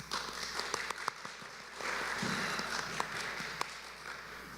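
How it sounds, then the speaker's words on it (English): A festival audience at a poetry opening night gives sponsors a quick round of applause, soft and somewhat distant, swelling slightly partway through before continuing at a low, even level. "if we could just give them a quick round of applause, please."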